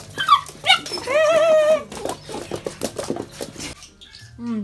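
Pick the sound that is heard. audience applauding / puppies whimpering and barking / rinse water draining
puppies whimpering and barking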